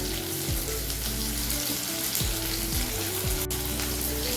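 Small onions frying in oil in a pan for sundakkai vatha kuzhambu, a steady close sizzle and crackle that runs unbroken throughout with no talking.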